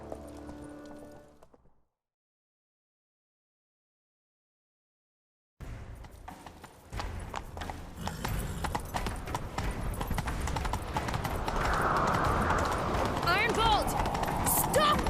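Horse hooves clip-clop in a quick galloping rhythm in The Witcher 3: Wild Hunt after a brief silence, growing louder and busier, with voices heard early on.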